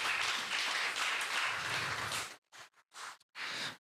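A temple gathering claps in a steady round of applause, fairly faint and even, which breaks into short clipped bursts before stopping.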